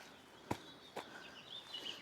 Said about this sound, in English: like the birds are chirping now,